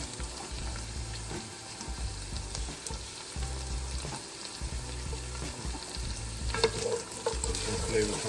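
Turnip, parsnip, carrots, celery and leeks sizzle steadily in a pot with saffron for a seafood soup broth, frying close and continuous with stirring and scraping throughout, no talking.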